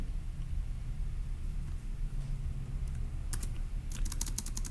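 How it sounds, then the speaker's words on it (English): Notes are typed on a computer keyboard: faint scattered key taps, then a brisk cluster of clicks near the end, over a low steady rumble with no talking. "let's go ahead and type that up in our notes in section B"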